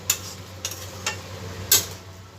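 A spoon stirs bottle gourd and prawn curry in a pan, making four sharp metallic scrapes and clinks spaced unevenly over a soft sizzle, with the last stroke loudest.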